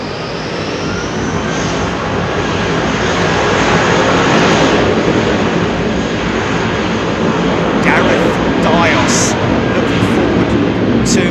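An airplane roars past spectators at Heathrow Airport, a loud continuous jet rumble and whine filling the space throughout, with brief voices heard faintly under it.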